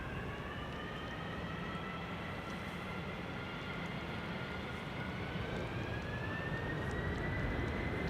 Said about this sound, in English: United is rolling.